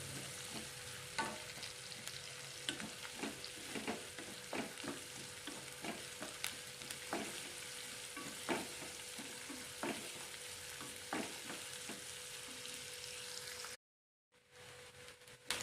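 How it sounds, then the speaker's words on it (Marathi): Onion frying with cumin in a pan for dal tadka, a continuous hiss of sizzling oil punctuated by frequent sharp scrapes and clicks of a spoon stirring against the pan, with a brief silent gap near the end. "जिरे मस्त फुलले की आपण त्यामध्ये आता कांदा टाकणार आहोत। छान परतून घ्यायचं आहे।"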